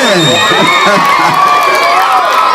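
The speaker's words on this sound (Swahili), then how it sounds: "wapi shangwe na vigelegele" A crowd at a primary school classroom opening in Nandi cheers loudly and ululates, with high wavering trills and children's shouts sustained close up.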